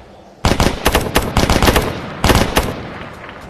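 Rapid automatic gunfire in the Tactical Assault VR video game, three loud, close bursts of fast repeated shots with short gaps between them, no talking.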